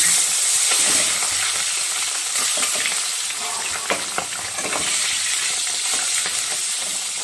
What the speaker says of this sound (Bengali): তেলটা আমার গরম হয়ে গেছে, এবার মাছগুলো ভেজে নিব